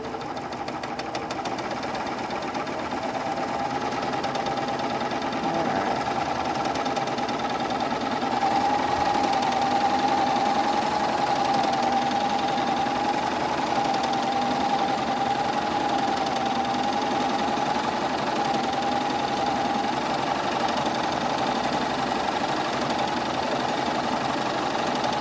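A sewing machine stitches the lining of a pair of boys' shorts, a steady mechanical hum with a faint whine running unbroken for the full stretch, close and moderately loud with no talking.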